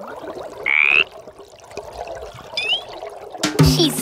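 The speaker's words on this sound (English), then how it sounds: "This is my pet frog." A cartoon pet frog croaks and chirps in a few short, bright calls, with a rattling croak near the end, heard alone over a soft background.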